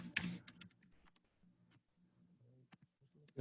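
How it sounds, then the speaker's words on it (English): Quiet typing on a computer keyboard while writing a PowerShell function, a sparse run of soft, irregular key clicks with brief pauses between strokes. "we're going to type function"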